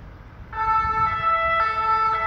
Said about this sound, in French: Bien, voilà les pompiers.